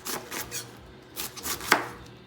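A knife chopping a whole cabbage on a cutting board in a home kitchen gives a few uneven thuds and crunchy cuts, close and moderately loud, with no talking.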